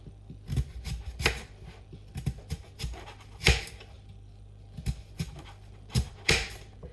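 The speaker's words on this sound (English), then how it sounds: "So then we're just going to slice it." A kitchen knife slicing through a peeled vegetable into big chunks for a roast chicken dinner, a series of irregular close chopping thuds on a board with short gaps between cuts, no speech.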